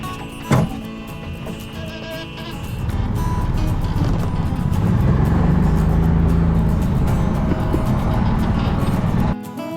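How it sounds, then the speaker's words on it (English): A bus starts off with a thunk, then its engine rumbles steadily and grows louder as it drives, staying near and continuous until it cuts off abruptly at the end. "I get to drive the bus also."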